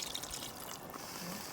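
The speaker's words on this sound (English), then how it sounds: "we'll add a little bit of water" Water from a full can poured into a pot of turkey chili, a faint, steady trickle and splash lasting a moment.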